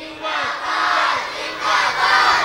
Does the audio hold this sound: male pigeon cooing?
no